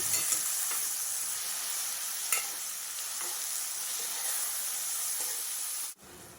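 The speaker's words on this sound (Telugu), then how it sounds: "కట్ చేసుకున్న టొమాటో ముక్కల్ని కూడా వేయించుకోవాలి" Chopped tomatoes fry in a pan with onion and green chilli for a paneer gravy curry, giving a steady, close sizzling hiss with light stirring scrapes throughout, then a brief drop near the end.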